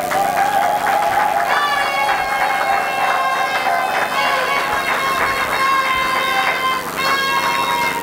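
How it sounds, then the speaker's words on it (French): A seated audience applauds a graduate at a theology graduation ceremony, with steady, sustained clapping throughout. Tonal music or chanting carries over it the whole time. "vous allez vous lever pour que l'assistance puisse vous acclamer"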